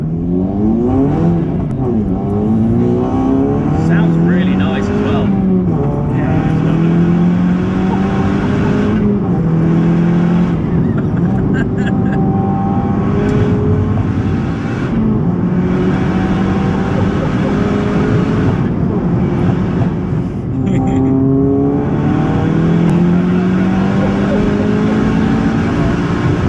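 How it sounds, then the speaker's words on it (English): A 484 bhp VW Polo GTI 6C running on E85 revs hard, its engine note climbing and falling in repeated loud sweeps that stay close and sustained for nearly half a minute. "Sounds really nice as well."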